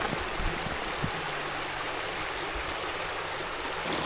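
A small creek flows just below a waterfall in a winter landscape, giving a steady, full rushing burble throughout, fairly loud and close, with no voices.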